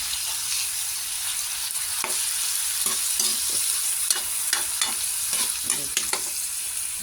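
Chicken liver sautéing in a hot pan for pancit, giving a steady, close sizzle broken by repeated spatula scrapes and clacks against the pan.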